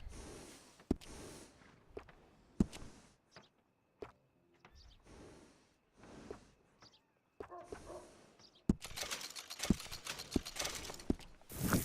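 Horse hooves clip-clop in the video game Red Dead Redemption 2 in scattered bursts, with a few snorts between footfalls and a denser, louder run of hoofbeats near the end.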